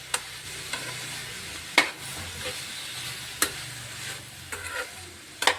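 Spinach frying with salt in a pan: a continuous soft sizzle, broken by a few crisp scrapes of a stirring spoon every second or so.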